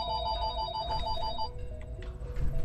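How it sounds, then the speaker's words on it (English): A telephone in the game Fallout 4 rings with a repeated electronic trill. The pulses come in a steady rhythm at moderate volume over a low ambient rumble, with no talk. "Shut up, phone."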